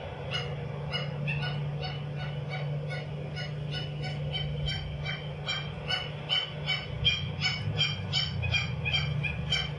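A wetland bird at Curtiembre in Paysandú calls in a steady series of short, repeated yelping notes, likened to a little dog, over a constant low hum, with no talk.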